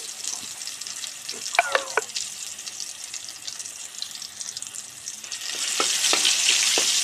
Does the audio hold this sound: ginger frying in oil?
yes